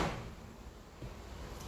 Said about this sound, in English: there goes the front door.